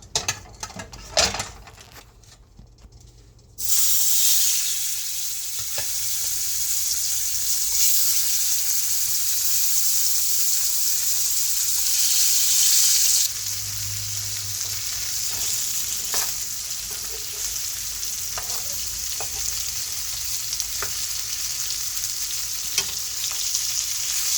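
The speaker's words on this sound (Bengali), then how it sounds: "তেল দিয়ে মাছগুলো দিয়ে দিব।" Fish frying in hot oil, a loud, steady sizzle that starts abruptly after a few quiet seconds and continues throughout, with scattered crackles and pops.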